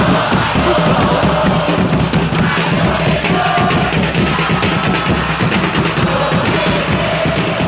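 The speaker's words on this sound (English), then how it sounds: "Crowd appreciates good football all round there" Large football stadium crowd at an Indonesia vs Morocco match, a dense, continuous roar of many voices swelling with shouts and cheers after a good run and defensive stop, steady and loud throughout.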